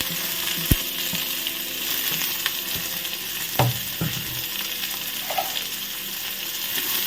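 Mustard seeds frying in a little oil in an iron kadai give a steady close sizzle, with a few sharper pops and clinks scattered through it.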